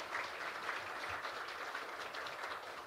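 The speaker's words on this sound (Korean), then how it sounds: "우리 강민국 의원님과 박상혁 의원님께 기대하면서 한 번 더 큰 박수 부탁드리겠습니다." Steady applause from a seated audience at a Korean fair-trade policy forum, a faint, even wash of clapping heard from a distance without talk.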